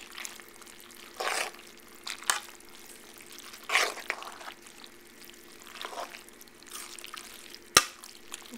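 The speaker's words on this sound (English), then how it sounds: "I'm just going to mix it in all of our macaroni." Homemade macaroni being stirred with half and half and cheese: soft, wet squelching and sloshing comes in a few short, faint bursts, with quiet gaps between them and no talking.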